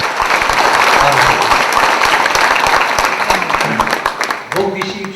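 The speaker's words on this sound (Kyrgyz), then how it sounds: "Бир кол чаап коебуз." Applause from an audience at a public meeting in Osh, a loud, dense burst of clapping that carries on steadily and fades slightly near the end, with a voice coming in over the tail.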